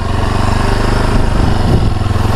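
A Kawasaki KLX 230 SM SE motorcycle from 2023 idles on its own without throttle, its single-cylinder engine holding a steady, close, fairly loud rhythmic putter throughout.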